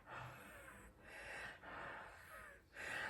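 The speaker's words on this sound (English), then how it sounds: "I'm just going to huff, put some of my breath just to loosen the ink a bit." Three or four close, breathy huffs blown onto an ink stamp to loosen the ink during floral card-making, each a soft airy burst separated by brief pauses, with no talking.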